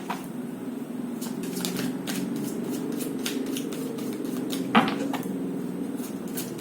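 Tarot cards are shuffled by hand in quick, repeated riffling bursts, close and steady, with one sharper tap midway and no talking.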